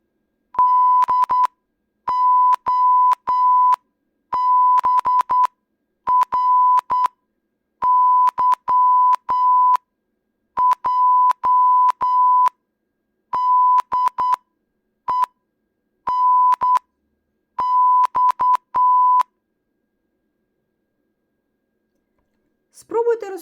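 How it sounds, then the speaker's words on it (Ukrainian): Morse code signal beeps at a single steady pitch, short dots and longer dashes grouped in regular bursts with brief gaps, clear and alone, ending in a moment of faint noise. "Короткий сигнал це крапка, довгий сигнал тире."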